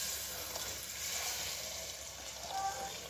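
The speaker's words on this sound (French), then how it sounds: "je vais ajouter de l'eau bouillante jusqu'à couvrir ma viande" Boiling water poured over beef in a pot for a Moroccan beef and vegetable marqa, a steady close hiss and sizzle with faint bubbling, no voices.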